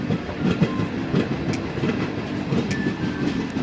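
DEMU passenger train running on rails between Dandeli and Alnavar, with a steady rumble heard from on board and a rhythmic clickety-clack of wheels over the rail joints.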